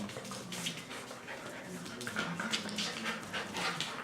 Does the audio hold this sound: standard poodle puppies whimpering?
yes